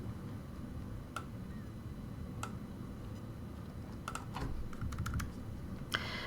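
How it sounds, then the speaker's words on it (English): Arrow keys on a computer keyboard are pressed, a few sharp isolated clicks at first, then a quicker cluster of taps, close and clear in a quiet room. "I can also use my up and down arrow keys on my keyboard if I want a little bit more precise movements."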